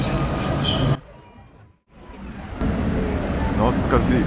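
A WKD electric commuter train in Warsaw, with asynchronous motors and starting resistors, rumbles and rolls near the listener; the noise drops away briefly, then returns, with people talking.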